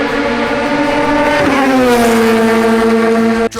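A Radical race car on a track, its engine loud and close, holding a high revving tone, then dropping in pitch as it shifts and pulls through, with a brief cut near the end.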